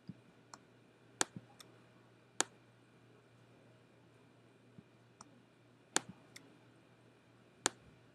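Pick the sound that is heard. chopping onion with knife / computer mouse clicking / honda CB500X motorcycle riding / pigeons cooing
computer mouse clicking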